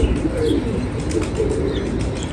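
A racing pigeon flaps and coos during a close inspection of the bird, with a dense, busy flutter of wings and soft murmuring calls filling the space continuously, close and moderately loud, with no voices.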